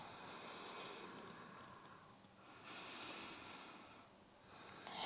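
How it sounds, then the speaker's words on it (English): Slow, deep breaths during a hatha vinyasa yoga forward fold, two or three long airy inhales and exhales with soft nasal hiss, faint and close against a quiet room. "Take 3 deep breaths."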